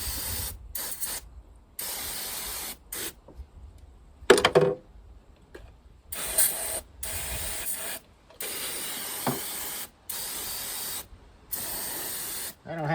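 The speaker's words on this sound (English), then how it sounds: "So let me get the carburetor sprayed down and go from there." Brake cleaner is sprayed onto the carburetor of a 1978 Jaguar XJS fitted with a Corvette engine, in a series of short, close, loud aerosol hisses separated by brief pauses.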